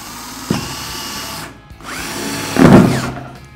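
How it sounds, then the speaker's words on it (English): A power drill with a 1 3/8 inch bit whirs loudly and close while cutting a hole in a plastic container, running in two bursts with a brief pause and a rougher, harsher grind as the bit bites through. "And I'm gonna drill a hole."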